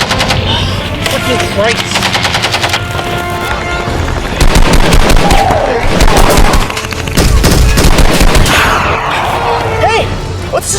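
Film scene of a street gunfight: loud, continuous automatic gunfire with rapid bursts and heavy shots dominating throughout, with someone shouting briefly over it.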